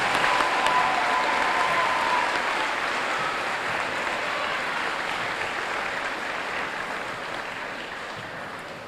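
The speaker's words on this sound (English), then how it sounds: "Please give her a round of applause." Steady applause from an audience at a community challenge event, sustained clapping that stays dense and even throughout before easing slightly in volume toward the end, with no voices standing out.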